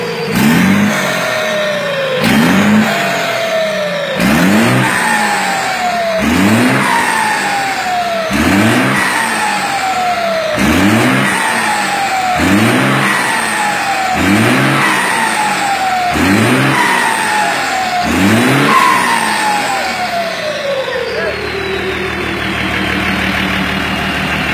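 A turbocharged Mercedes-Benz 1317 truck with a 352 engine revs hard again and again, about ten rising, whining surges with a turbo whistle, before settling into a steady idle rumble near the end.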